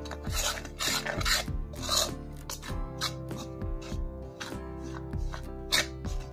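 Spices and finely ground ginger-garlic paste are stirred together in a bowl for Diwali chakli dough made from roasted chana, giving steady close rasping and scraping strokes alone, with no voice.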